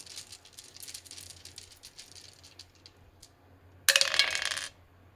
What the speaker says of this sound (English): I'm just going to get the dice out.